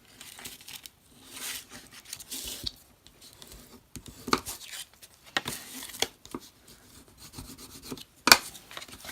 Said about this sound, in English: let me get my bone folder so we have good creases